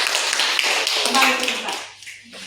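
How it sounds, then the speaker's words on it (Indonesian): Classroom clapping for a student group in an arts and culture lesson, a dense patter of many hands under a teacher's speech, breaking off near the end as the clapping dies away. "Kita tepuk tangan untuk kelompok 2"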